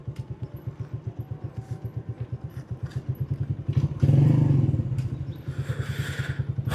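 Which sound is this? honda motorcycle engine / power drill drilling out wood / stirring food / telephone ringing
honda motorcycle engine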